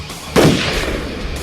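A single loud gunshot cracks sharply, then its echo rumbles and fades over a noisy background.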